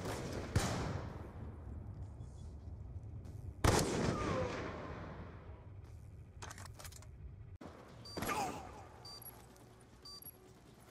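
Gunfire in a video game shootout: a few sharp, loud shots spaced seconds apart, each with a decaying tail, plus scattered quieter clicks between them.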